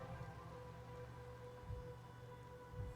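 Gentle rain in the video game Master Detective Archives: Rain Code, a faint steady patter under a soft tonal hum, with a few low thuds.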